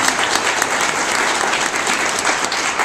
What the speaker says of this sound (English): Okay, applause for Craig.